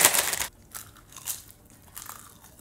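A crunchy low-carb keto snack bought at Whole Foods is bitten with a loud close crunch, followed by softer, intermittent chewing crunches.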